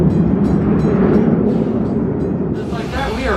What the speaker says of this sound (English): Just like that, we are back on the move